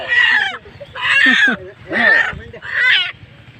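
A chicken clucks loudly and close up in four separate bursts, each a squawking call with short pauses between them.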